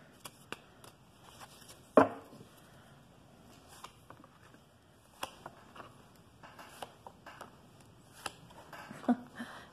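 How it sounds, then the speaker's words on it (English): Tarot cards are shuffled by hand in a quiet room, giving soft riffling and scattered sharp taps and flicks at irregular intervals, with one louder slap near the start. "Okay, one more shuffle."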